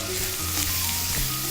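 Chicken pieces searing in a hot pan, giving a loud, steady sizzle and crackle that fills the short moment without any talk.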